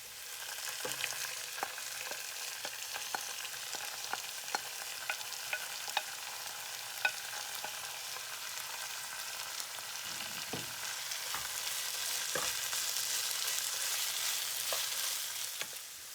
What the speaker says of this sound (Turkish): Burada suyunu süzdüğüm fasulyeleri de ekliyorum.